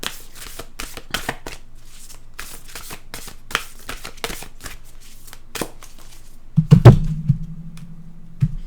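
Oracle cards shuffled by hand in a rapid series of crisp riffling bursts, close and clear, followed by a few louder knocks and handling thumps near the end.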